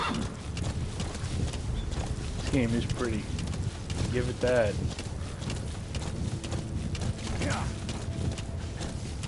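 Steady hoofbeats of a horse galloping in Metal Gear Solid V: The Phantom Pain run beneath someone talking, with a brief snort partway through.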